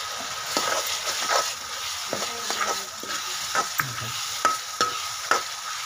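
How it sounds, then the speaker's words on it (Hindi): Tomatoes going into cooked masala for a mixed dal, frying with a soft sizzle under repeated scraping and stirring knocks of a spoon against the pan, close and fairly even in rhythm. "ये हमारा मसाला पक चुका है, अब डालेंगे हम इसमें टमाटर।"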